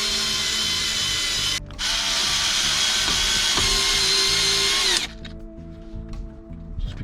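A power driver runs screws in to mount a new digital AC panel in a Range Rover L405. The motor whirs steadily and loudly, briefly pauses, then stops, leaving a faint mechanical hum.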